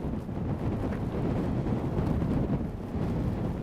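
Steady strong wind on a Scottish mountainside buffets the microphone with a continuous low roar and no voices.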